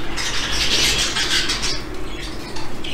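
Young budgerigars in a home aviary, still growing in their first feathers, give a dense, continuous chatter of bright chirps and squawks, fairly close and steady for the whole stretch.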